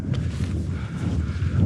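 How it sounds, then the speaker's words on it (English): Wind buffets a hiker's microphone near a foggy mountain summit on the Yorkshire Three Peaks, a steady low rumbling roar with gusty swells, close and fairly loud, with no talking. "it's getting pretty windy."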